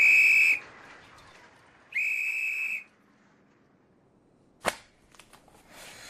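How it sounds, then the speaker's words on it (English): Two shrill whistle blasts, one short and one longer, followed by a sharp crack and faint clatter. "I have my whistle"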